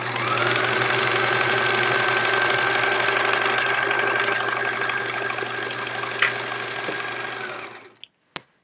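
A sewing machine stitches quilt pieces for a scrappy chevron quilt in a steady, close, whirring run that slows and stops near the end, followed by a couple of soft clicks.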